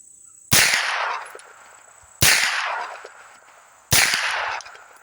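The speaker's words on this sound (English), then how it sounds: "SuperSonics first. Here we go. Gonna shoot in the dirt." Three loud suppressed supersonic rifle shots from an AP5 fitted with an Otter Creek Labs Lithium suppressor, fired into dirt outdoors, evenly spaced about every one and a half seconds, each a sharp crack with a decaying tail.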